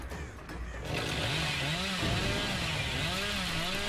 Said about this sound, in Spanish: Tengo que practicar con la motosierra porque ya estáis viendo que fallo